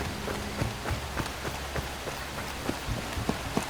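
Rain in the video game Far Cry 2, in an African setting: a soft, continuous patter with quick running footsteps thudding through it, fairly faint.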